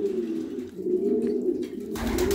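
Pigeons coo steadily in a breeding loft, a low rolling warble from several birds close by, with a rougher burst of noise near the end.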